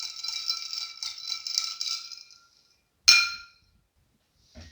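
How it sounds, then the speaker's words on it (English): A spoon rattles and clinks rhythmically against a glass with ice while stirring an Old Fashioned cocktail for a couple of seconds, followed by a single sharper clink and quiet. "Give a nice little stir."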